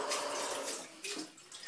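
A saucepan being washed under running water from a tap, a faint, continuous splashing rush with small shifts as the pan moves in the stream, quiet and close.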